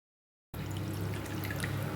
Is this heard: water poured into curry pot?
yes